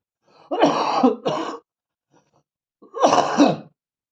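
A person coughs twice in quick succession, pauses, then coughs once more, close and loud in a quiet room.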